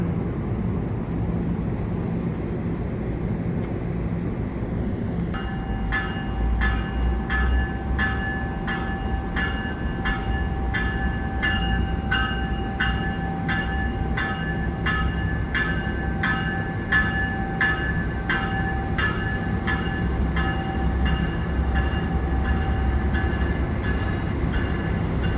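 Bombardier multi-level commuter coaches at a terminal station make steady, loud rail rumble, then a rhythmic series of wheel clacks over rail joints as the train rolls past close by, with a sustained whine through the middle.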